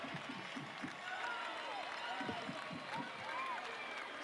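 A stadium crowd at a USL PRO playoff soccer match roars and applauds after a goal, a dense steady wash of cheering and clapping heard from a distance, with voices faintly over it.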